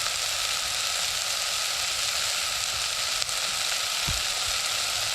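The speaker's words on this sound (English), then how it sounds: "just gonna stir, saute the veg," Vegetables sautéing in a pot on a camping stove, a constant loud hiss of frying with a couple of soft knocks near the end and no speech.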